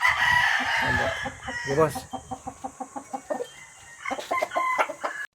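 Gamefarm roosters in Pura, Tarlac cluck in a rapid, rhythmic series of close calls, with crowing rising at the start and end and someone speaking briefly.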